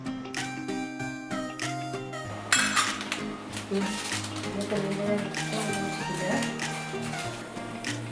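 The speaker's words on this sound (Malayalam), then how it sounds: "എന്നിട്ട് ഇടയ്ക്കിടെ ഇളക്കി കൊടുക്കണം." A pan of jaggery melting in water is stirred now and then, with a few faint clinks and scrapes of a utensil against the metal under steady background music.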